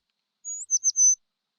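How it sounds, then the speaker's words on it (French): A cartoon bird in a children's animation sings a short, clean chirping call: one sliding whistle followed by three quick tweets, bright and close against total silence. "Oui, un oiseau."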